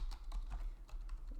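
Quiet, close typing on a computer keyboard: a quick, uneven run of light key taps over about a second and a half, with no talking.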